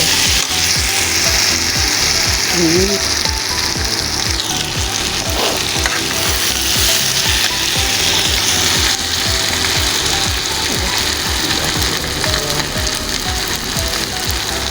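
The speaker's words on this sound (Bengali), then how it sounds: "এখন এটা বেজে নিচ্ছে ভালোভাবে" Pasta fries in a pan with cooked meat and egg, making a continuous close sizzle under steady rapid ticking and scraping that lasts the whole stretch.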